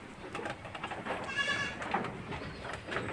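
A Shami goat bleats on a farm, one wavering call in the middle over a busy, noisy outdoor background.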